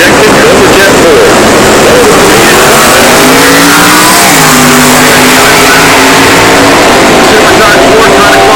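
A late-model Formula Pontiac Firebird drag races a fuel-injected Cobra Jet Ford with automatic transmission in stock eliminator, engines roaring loud and sustained with pitch sweeping as they run, under a track announcer's commentary.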